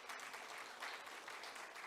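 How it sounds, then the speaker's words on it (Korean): Audience at a university forum lecture clapping for a speaker, a brief faint wash of steady applause from a seated crowd. "앵겔 부총장님께 큰 박수 보내주십시오."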